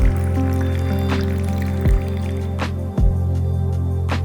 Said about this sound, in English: Fill the water tank with cold water, using the inner markings to guide your desired coffee size.